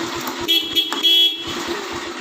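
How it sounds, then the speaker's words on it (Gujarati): A vehicle horn sounds in a few short honks, loud and near, over a busy street background with traffic noise. "હોર્ન મારીએ તો કે ઘૂમ"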